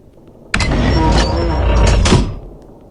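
A door in the Evil Nun horror video game is forced or slid, making a loud, sustained rumbling scrape that lasts about two seconds before fading out.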